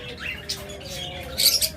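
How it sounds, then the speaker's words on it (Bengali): Lovebirds, cockatiels and budgerigars at a bird farm give short, scattered chirps and tweets, moderately quiet, with brief squawks near the end. "আমাদের খামারে রয়েছে অসংখ্য পরিমাণ লাভবার্ড রয়েছে ককাটেল তাছাড়া রয়েছে বাসবিগার এবং ঝাবা পাখি"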